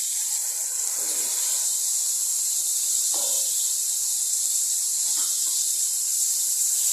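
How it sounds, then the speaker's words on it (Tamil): Tomato paste with green chillies and a handful of mint frying in oil, giving a steady, loud sizzling hiss throughout with a few soft stirring scrapes. "நல்லா இதை வதக்கிக்கலாம். நல்லா எண்ணெய் பிரிஞ்சு வறுக்கணும்."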